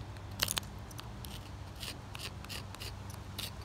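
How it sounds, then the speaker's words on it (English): Scraping spotted lanternfly egg masses off a surface gives a few brief, sharp scratches near the start, then lighter repeated rasping strokes over a low steady background hum. "I can try to scrape it more lightly."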